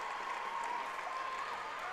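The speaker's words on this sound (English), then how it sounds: "Her teammates are clapping along in the background." Gymnastics teammates clapping along at a meet, a steady wash of applause from a crowd in the background, fairly faint and continuous with no clear talk.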